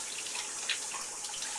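Water sputters and hisses from a tap fed by a bore pump, running rusty after a mix-up in the line; a steady close broadband gush with small irregular bursts and no talking.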